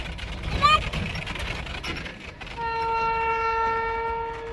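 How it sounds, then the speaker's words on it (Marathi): A train rumbles past close by a village, its horn blaring a long, steady multi-tone blast over the rolling noise; a voice is heard briefly at the start. "ट्रेन आली"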